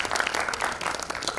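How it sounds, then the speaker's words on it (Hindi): A brief burst of dense, continuous applause from an audience at an evening mushaira poetry gathering, steady and moderately loud throughout. "उन लोगों के लिए खास तालियां होनी चाहिए"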